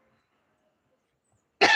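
A single short cough bursts out at the very end after nearly two seconds of silence, loud and close, from a participant on an online call.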